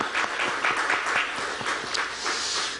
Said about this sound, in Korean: 박수까지 받으셨으니까